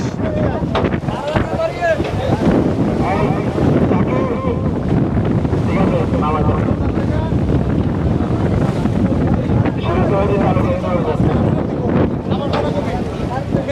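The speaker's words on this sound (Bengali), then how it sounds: "এবং প্রচুর বাতাস" Strong wind roars and buffets steadily beside a river at Subarnachar, Noakhali, a constant heavy rush with voices talking faintly underneath.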